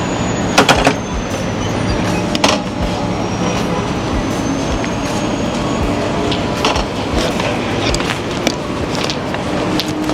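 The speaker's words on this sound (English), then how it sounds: "This is a double-decker train." A double-decker passenger train runs along the track on the way to Union Station, a steady rumbling rolling noise with periodic clacks and thumps, heard from inside the car, no talking.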